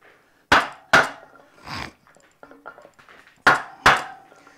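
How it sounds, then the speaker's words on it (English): A 2x4 is struck with a hammer to drive out a wheel bearing, giving two pairs of loud, sharp wooden whacks with quieter clanks and knocks between them. "I'm gonna take this 2x4 down underneath here. Give that a couple whacks, a little bit longer."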